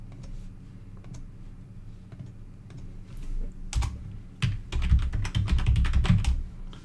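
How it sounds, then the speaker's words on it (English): A computer keyboard is typed on steadily while a command is entered into a terminal, with clustered key clicks that grow louder and denser toward the end. The keystrokes are close, with no speech. "you type that command into a terminal."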